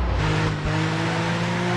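A car engine drones steadily in the Driver San Francisco video game, a low sustained motor hum with no voices.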